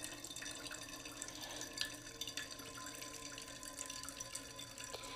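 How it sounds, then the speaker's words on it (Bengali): A small splash of water poured into a spiced curry of fried potatoes and pointed gourd cooking in oil, a faint, steady trickle heard alone and close. "এবার দিয়ে দিলাম অল্প পরিমাণে জল"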